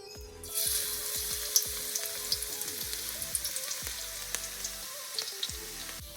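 Garlic pieces fry in a pan for nuts fried rice, giving a steady hissing sizzle with frequent small pops and crackles, close and constant throughout with no talking.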